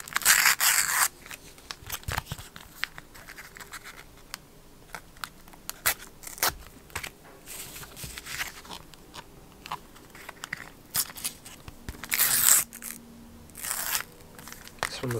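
NBA sticker and card packs from a 2021 collection box are torn open carefully, giving repeated crinkly foil rips and crackles in short bursts separated by quieter handling pauses.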